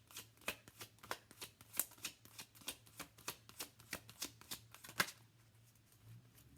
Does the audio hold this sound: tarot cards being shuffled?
yes